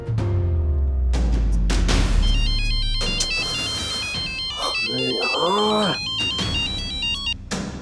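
A melodic phone ringtone repeats steadily over several seconds while people talk nearby; a low rumble fades out at the start.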